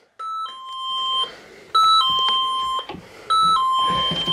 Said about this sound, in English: It's a doorbell. So you press a little button here, and it rings on the inside.